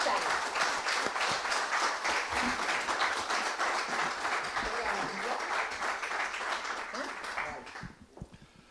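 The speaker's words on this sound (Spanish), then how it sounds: "Vamos a darle un fortísimo aplauso a Antonio Pérez Henares." Loud, sustained audience applause greets the speaker Antonio Pérez Henares at a lecture in Cartagena, with dense crowd clapping that carries on evenly, then tapers off into a few scattered claps near the end.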